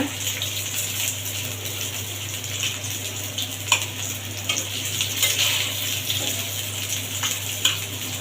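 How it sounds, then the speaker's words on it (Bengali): Food frying in a pan with chilli paste, a continuous hissing sizzle broken by occasional scrapes and clinks from stirring, close and steady over a low hum. "এখন আমি এগুলো নাড়াচাড়া করবো"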